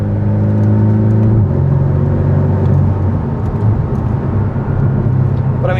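A 2019 Porsche 718 Cayman with PDK gearbox accelerates hard in fourth gear from about 4,000 RPM, giving a loud, steady engine drone heard from inside the cabin that deepens and roughens partway through.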